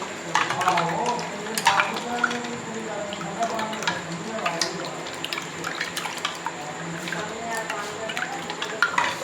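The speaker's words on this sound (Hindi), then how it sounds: "तो इसे करेंगे अच्छे से मिक्स।" A spoon stirs milk soda with about one and a half glasses of 7 Up in a jug, a close, continuous liquid swirl with clinking taps against the sides and fizzy sloshing, while a person talks intermittently.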